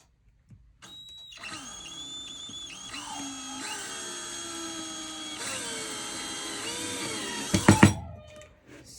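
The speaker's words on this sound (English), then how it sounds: "put a little pressure on the screw, take my power screwdriver." A cordless power screwdriver whirs steadily for several seconds, driving a screw into the wooden frame of a stretched canvas while it is being wired, then ends in a short burst of clatter.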